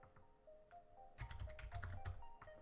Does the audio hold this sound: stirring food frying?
no